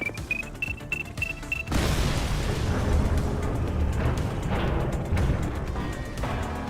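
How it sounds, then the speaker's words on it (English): An explosion goes off in the police video game The Precinct. A quiet tone gives way to a sudden loud blast, followed by a sustained rumbling roar that lasts to the end, with no talking. "We may not have the time to stop the explosion."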